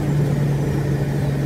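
A steady low engine drone and hum inside a city bus while riding, constant and even, with no talking.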